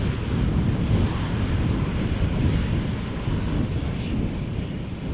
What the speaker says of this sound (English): EasyJet A319 having arrived from Birmingham.